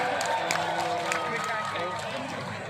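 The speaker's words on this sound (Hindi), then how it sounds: "जोरदार तालियां एक बार हो जाए" Live audience applause at a Janta Mahotsav poetry and comedy event, a dense, steady wash of clapping from a large crowd that holds evenly and tapers slightly near the end.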